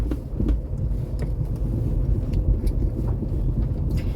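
A car driving along a road, a steady close low rumble of engine and tyres from inside the vehicle, with a few faint clicks and no talk.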